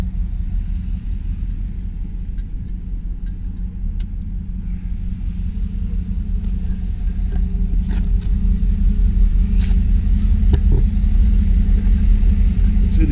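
A 1997 Pontiac Firebird Formula with a 5.7L V8 rumbles at idle, a steady deep low drone that swells slightly louder partway through, with faint clicks and knocks on top and no talking.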